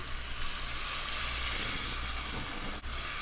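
Loud, steady sizzling and hissing as two cups of water are poured into a hot pan of cooking chicken, with a brief dip near the end.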